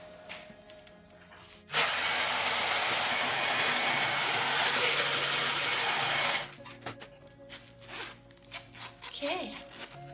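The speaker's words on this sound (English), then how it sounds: "I'm gonna try and blow over with the hairdryer." Handheld hair dryer switched on for about five seconds, blowing over a zipper rubbed with candle wax: a steady loud broadband whoosh that starts and stops abruptly, with quieter handling noise and rustling afterward.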